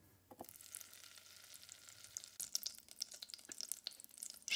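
Butter and olive oil crackle and sizzle in a pan, faint at first and then a busier spitting hiss with small pops and clinks, no voices present.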